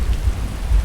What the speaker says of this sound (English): So here's your beautiful rain.